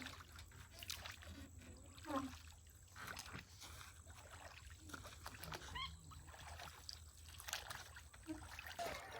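Water sloshes and trickles around a small boat crossing a river, a soft continuous lapping with occasional splashes under a low hum, with faint voices in the background.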